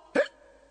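A single short cartoon hiccup from a teacher character in a Hindi-dubbed Ninja Hattori episode, a quick loud voiced gulp standing alone with a faint tone trailing after.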